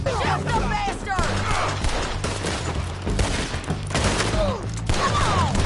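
Gunfire in the video game Red Dead Redemption 2 rattles in dense, overlapping volleys across the whole stretch, loud and close, mixed with shouting voices and clattering battle noise.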